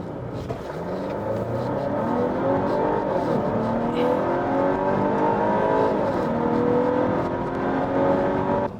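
A Volvo S90 B6 AWD mild-hybrid sedan accelerates hard to 100 km/h, its engine note rising steadily through the gears with a brief dip at a shift, a loud sustained roar heard from inside the cabin.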